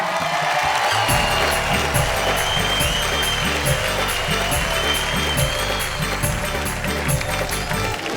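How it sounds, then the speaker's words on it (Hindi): An audience at a Hindi comedy poetry gathering claps steadily and loudly throughout, with dense continuous applause and some crowd noise mixed in. "हम बजाएं उनके लिए जोरदार तालियां।"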